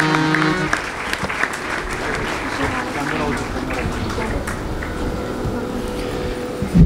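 Audience at a Guru Purnima gathering giving steady applause for volunteers, continuous clapping with crowd noise and some talking mixed in, fairly loud and even throughout.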